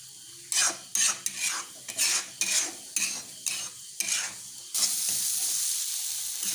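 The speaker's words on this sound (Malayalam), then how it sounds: "ഇളക്കി ഇളക്കി തോരൻ പോലെ നമ്മൾ എടുക്കണം" Egg bhurji with tomato, onion and masala being stirred in a hot pan: rhythmic scraping strokes of a spatula over a continuous sizzle, ending in a steadier frying hiss.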